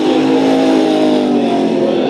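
Race cars at Bakersfield Speedway roar away at a green flag start, a loud, sustained, rising engine howl from several cars accelerating together, with no talk over it.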